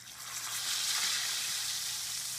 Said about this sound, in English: we're gonna fry this for about maybe 2 minutes on each side